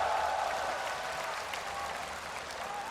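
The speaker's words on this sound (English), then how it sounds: "Just listen to the crowd." A large esports arena crowd at a League of Legends all-star match cheers and applauds steadily, a dense wash of clapping and shouting held at an even level throughout.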